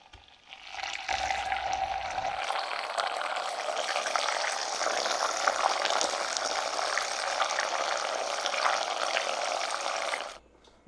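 An electric protein shaker bottle, capped, whirs as it stirs a cold chocolate drink mix. A continuous liquid churning hiss switches on and runs steadily for about nine seconds before stopping abruptly.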